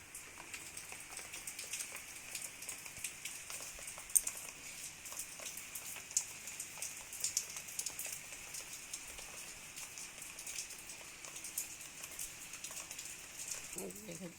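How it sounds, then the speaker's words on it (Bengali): Light rain falls steadily outdoors as a faint, soft patter with scattered tiny drip ticks, and a brief voice is heard at the very end. "বৃষ্টি হচ্ছে এতদিন পর।"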